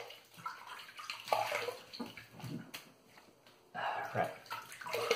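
Water running from a tap while a shaving brush is rinsed, a soft uneven splashing and gurgling stream that swells and fades, with a brief spoken word.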